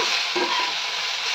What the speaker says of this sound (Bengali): ভালো করে মিশিয়ে নেব ম্যাগির সঙ্গে